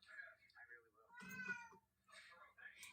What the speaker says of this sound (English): You hear this cat?